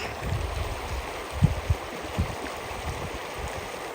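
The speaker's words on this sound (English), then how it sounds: "Now Chuck is crossing the creek" Creek water flows in a steady wash, with a few soft splashes and sloshes nearby as a hiker wades across the creek on the Uinta Highline Trail.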